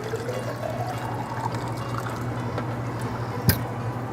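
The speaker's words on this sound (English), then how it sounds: "Fill it up with water." Water is poured into a pitcher for a mint drink, making a steady close stream with a faint rising fill tone and a sharp clink near the end.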